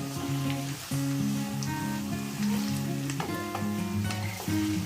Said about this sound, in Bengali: আমি ঢাকাটা খুলে আবার আমি হালকাভাবে নেড়ে চেড়ে নেব।